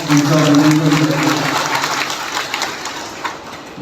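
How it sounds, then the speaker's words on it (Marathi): Church congregation at Sunday Mass in St Paul Church, Nanbhat, applauding a newly announced deputy mayor: a loud, sustained roomful of clapping that gradually fades, with a voice speaking briefly at the start. "तर आपण टाळ्या वाजवून त्यांचं अभिनंदन करतो."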